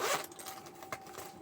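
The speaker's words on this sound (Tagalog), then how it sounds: "Tapos, tatlong zipper siya." A zipper on a gift bag with three zippers and a drawstring is pulled in one quick, close rasping zip, followed by a few softer scraping strokes as the slider moves along.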